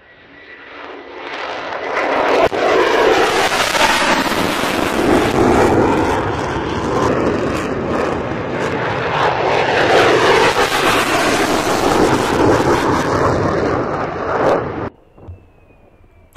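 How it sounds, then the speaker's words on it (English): Lockheed Martin F-35A Lightning II fighter jets arriving at RAF Lakenheath: a loud, close roar that swells within a few seconds, holds as a sustained rushing engine noise for over ten seconds, then cuts off sharply. "The first four F-35A fighter jets arrived 15th December 2021 at RAF Lakenheath"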